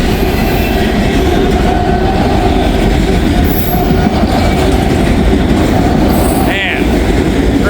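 A long mixed manifest freight train rolls past in Wyoming, loud and close, with constant rumble, wheel clatter and a brief squeal, and nobody talking over it.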